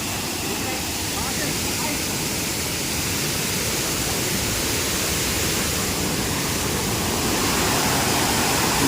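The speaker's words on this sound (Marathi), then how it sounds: "मामाच्या गावचा वॉटरफॉल पाणी खूप आलेलं आहे" A waterfall in Sindhudurg, Konkan, swollen with heavy water, roars in a loud, steady broadband rush that fills the whole clip without a break.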